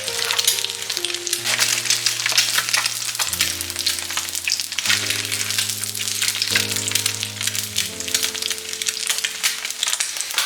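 Bacon and egg frying in bacon grease on a griddle for a grilled sandwich give a loud, steady sizzle with crackling pops running the whole time, with no voices over it.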